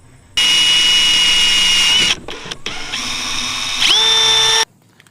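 A power drill with a 5/32 bit whines steadily at high pitch while drilling a hole for a boat steering kit, briefly stops and restarts, then spins up again before cutting off; loud and close.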